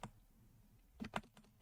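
Faint, close computer keyboard typing of PHP code, a few quick separate keystrokes with a small cluster near the end, with no talking.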